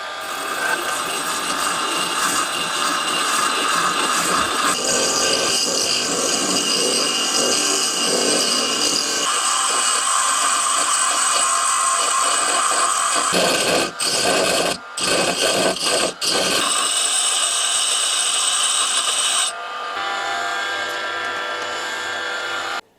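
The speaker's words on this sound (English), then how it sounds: "that is going to take ages on my little bench grinder" A small bench grinder grinds a steel boring bar in a continuous, loud, close whine with rough scraping texture, the pitch dipping briefly as the tool is pressed and lifted, running nearly the whole time before easing off.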